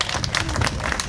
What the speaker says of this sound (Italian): intanto fate un applauso